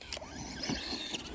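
A remote-control car reversing outdoors gives off a short, close electric motor whine with a slight rise and fall over steady background noise.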